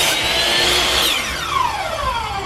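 A loud power saw whines through a cut, its high pitch dropping as the blade slows and spins down, with steady mechanical noise throughout.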